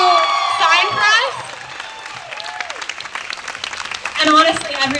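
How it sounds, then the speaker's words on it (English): A crowd at a Bans Off Our Bodies march and rally in Bellingham, Washington, applauds and cheers, with whoops and shouts over the clapping. The noise dips briefly in the middle and then swells again. "Let's give Lori a round of applause for volunteering her time to sign for us."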